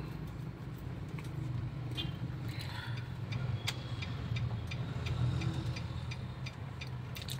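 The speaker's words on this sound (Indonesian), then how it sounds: "Pas dari sini berhenti, kita gigi 2 langsung jalan." A 2014 Datsun car pulls away from a stop in second gear, its engine a steady low drone inside the cabin with faint clicks and rattles over it, staying even throughout.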